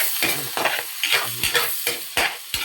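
Onion sizzling in butter in a kawali for butter garlic shrimp, a loud close hiss broken by rhythmic stirring strokes about every half second.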